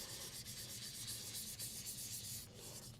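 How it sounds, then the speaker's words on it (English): Random orbit sander with 800 grit working a cypress wood hollow form, a steady close rubbing hiss with a constant low motor hum and no talk. "we can do a little random orbit with our 800"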